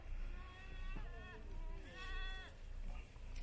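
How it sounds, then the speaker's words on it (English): Sheep grazing outdoors bleat several times in wavering calls over a low, steady background rumble. They sound moderately near, and no one talks. "Look at them just grazing away."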